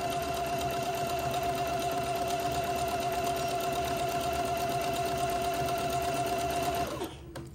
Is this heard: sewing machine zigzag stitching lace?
yes